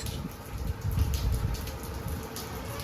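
Steady rain patters down in a dense, even hiss with soft drops spattering nearby, continuous throughout and no voices.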